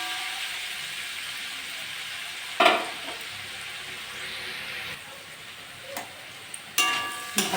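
Pointed gourd and potato pieces fry in a pan on a low flame. The sizzle is constant and close, broken by a few sharp scrapes and clatters from stirring.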